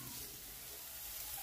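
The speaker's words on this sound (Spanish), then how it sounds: "En cuanto esté caliente la mantequita, vamos a agregar las chuletas a freír." Pork chops fry in melted butter in a skillet, giving a steady, soft sizzle that holds level and close throughout, with no voices.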